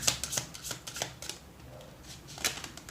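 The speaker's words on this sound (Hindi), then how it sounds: "चलिए लेट्स टेक 3 मोर कार्ड्स," Tarot cards are shuffled and drawn, giving a quick riffling flutter with several crisp card snaps spread over a few seconds, close and fairly soft, with no talking.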